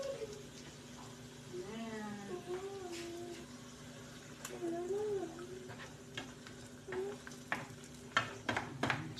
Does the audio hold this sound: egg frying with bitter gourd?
yes